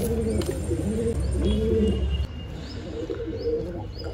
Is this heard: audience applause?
no